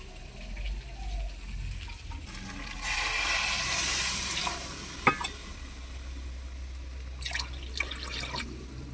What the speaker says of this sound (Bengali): এখন এখানে পরিমাণ মতো জল দিতে হবে।